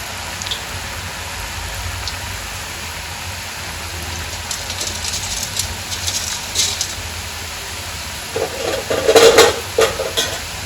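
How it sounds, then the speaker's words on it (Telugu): Rice-flour karapusa dough pressed into hot oil for frying gives a steady soft crackling sizzle throughout, swelling louder near the end as more dough drops in, with no voices. "ఒక్కొక్కటి తీసుకొని ఇలా ఆయిల్లో వేసుకోవాలి"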